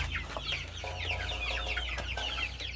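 Young Australorp chicks chirp and peep continuously at close range, a busy overlapping chorus of short high calls with a steady low hum underneath.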